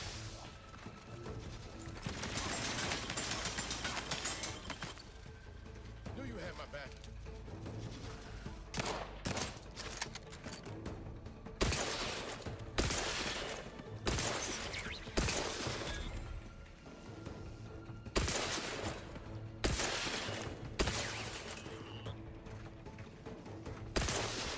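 Gun turrets fire in The Outer Worlds 2, sounding as fairly faint, repeated bursts of shots and sharp crackling impacts over a low game background, coming in clusters throughout.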